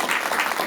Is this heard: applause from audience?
yes